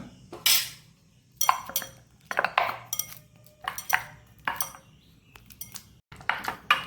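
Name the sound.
mashing ripe banana by hand for batter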